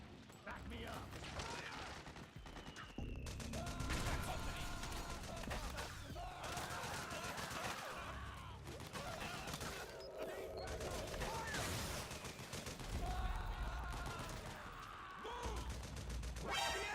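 Gunfire in the stealth-action game Metal Gear Solid 4 keeps up in sustained bursts throughout a firefight, with crashes and clatter mixed in and voices shouting at points.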